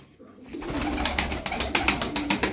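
Pigeons coo steadily nearby, their low rolling calls overlapping with rhythmic fluttering and rustling.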